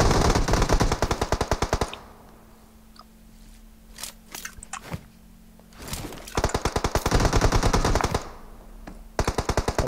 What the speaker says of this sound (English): Sweet, alright, now I'm ready to fire.